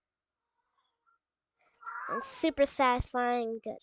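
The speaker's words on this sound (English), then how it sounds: "sorry about the noise in the background. It's just my cat." A cat meows a few times in the background while a person talks over it.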